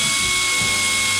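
A power tool whirs loudly and steadily as it loosens and runs out a 1/4-inch Allen-headed caliper retention bolt on a Dana 60 front axle, a continuous high-pitched whine heard up close.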